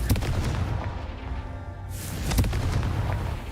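Confringo fire spell blasts in the Hogwarts Legacy video game, sounding as booming explosive bursts over a continuous rumbling game soundscape, with a sharp impact near the start and another after a brief lull.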